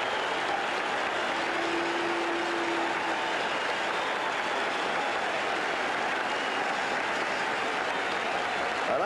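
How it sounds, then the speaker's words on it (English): A Fenway Park crowd gives Carl Yastrzemski a sustained ovation at a 1978 Yankees–Red Sox playoff game, a broad, steady roar of applause and cheering that fills the whole clip at constant loudness. "let's listen to the ovation for Yastrzemski"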